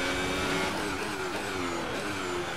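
An F1 car in the F1 2018 racing game, on the Spa circuit, screams at full throttle with a steady, high-pitched engine whine that shifts slightly in pitch and carries on without a break.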